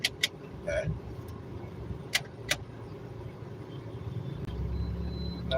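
A bus approaches along a road at night: after a few sharp clicks, a low engine rumble swells and grows louder toward the end.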